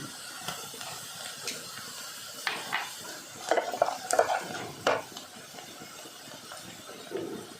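Onions frying in a pan with salt being stirred, quiet scraping and clinks of the spoon against the metal in scattered strokes over a soft sizzle, with no talking.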